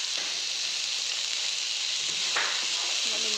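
Chopped fiddlehead fern and potatoes frying in a pan after onions, giving a loud, steady close sizzle with a few stirring clatters and no talk.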